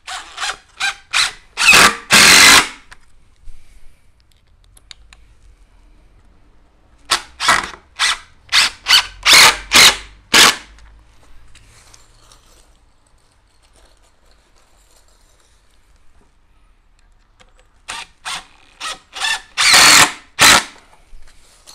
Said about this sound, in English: what I'm going to do now is just put a few 50mm screws, 2-inch screws in the back